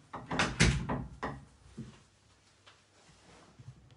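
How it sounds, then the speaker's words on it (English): A door is pushed shut indoors, giving a few close knocks and a thud in quick succession early on, followed by quiet room tone. "I'm just going to close the door actually."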